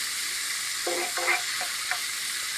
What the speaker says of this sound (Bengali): ভালো করে নাড়া করে সবগুলো প্রত্যেকটা মাংস ভালো করে ভেজে নেবে তোমরা